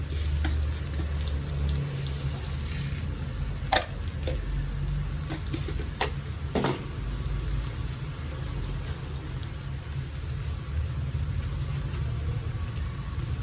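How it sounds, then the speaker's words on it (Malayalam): Chopped shallots and mustard seeds fry in hot oil in a pan, giving a continuous close sizzle with a few sharp pops and crackles scattered through it. "നാല് കൊച്ചുള്ളി അരിഞ്ഞതാണ് നന്നായിട്ടൊന്ന് മൂക്കണം കടുക് ഇട്ട് കൊടുക്കാം"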